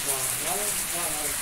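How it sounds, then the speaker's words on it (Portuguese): Steady rain pours down in a continuous hiss, with a voice speaking over it. "Agora eu vou mostrar a vocês a chuva"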